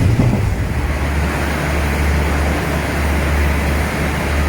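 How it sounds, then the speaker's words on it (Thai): Steady low rumble and rolling rail noise of a passing third-class passenger train from Nakhon Si Thammarat to Bangkok, loud and continuous with a broad hiss, no voices. "นี่คือรถไฟชั้นสามนะครับชั้นสาม"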